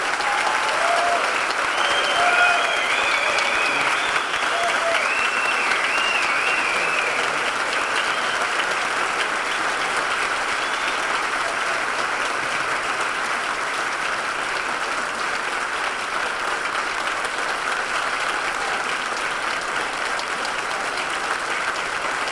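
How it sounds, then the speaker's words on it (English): A luncheon audience for the USS Gerald R. Ford ship sponsor gives the sailors a long, dense round of applause, steady clapping from a large crowd continuing for over twenty seconds. "I would like a round of applause for them."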